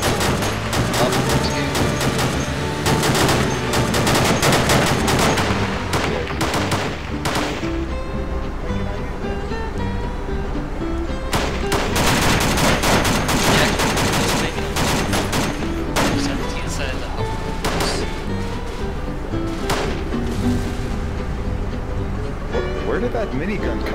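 Rapid bursts of minigun fire in a video game rattle out in repeated loud volleys with short gaps, mixed with other gunfire and game effects, while people talk over the action.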